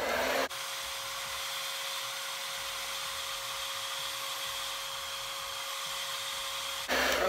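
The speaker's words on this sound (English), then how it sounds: "So now we're just going to blow dry, okay? Of course on cool." A hair dryer on a cool setting blows air over a wig, a steady whooshing hum with a faint tonal whine running for several seconds, switching on and off abruptly at either end, with no voices.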